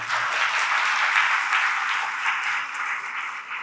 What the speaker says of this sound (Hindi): बजाओ जोरदार ताली।